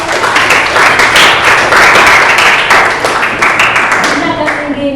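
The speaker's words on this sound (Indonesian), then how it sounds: "Oke, tepuk tangan buat Davino." A class of students claps loudly and close for a classmate, a busy burst of many hands that thins out toward the end.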